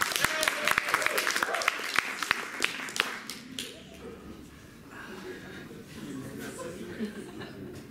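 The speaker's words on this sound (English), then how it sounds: "You guys feel like clapping?" A small group claps at a weekly combo music performance, scattered sharp hand claps up front that thin into a softer murmur of voices and light laughter.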